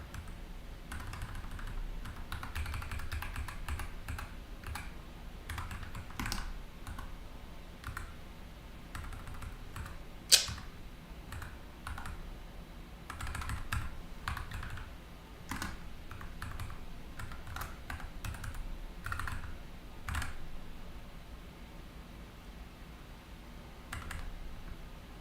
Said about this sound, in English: So I don't know why I'm typing this.